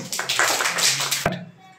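A class claps for a student after he answers a question, a dense burst of hand claps lasting just over a second, ending abruptly as a quiet voice carries on.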